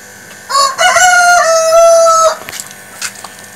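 A black Kadaknath rooster crows once at a farm in Prakkanam, Pathanamthitta district, a loud, close, drawn-out call of about two seconds, followed by a few soft clucks and faint background noise.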